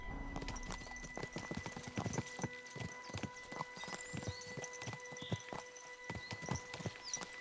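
A horse's hooves clip-clop at a steady walking pace in the medieval video game Kingdom Come: Deliverance 2, with evenly spaced, fairly close strikes running throughout over a low background.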